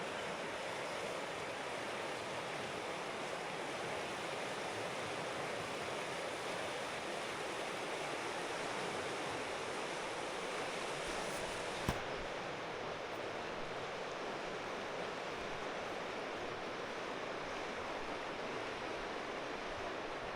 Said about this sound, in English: That river's moving pretty good right there